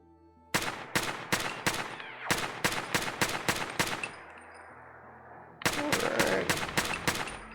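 Assault rifle fire from the Fallout video game: three loud, close bursts of rapid automatic shots, each string of sharp cracks followed by a short echoing tail, with no talking.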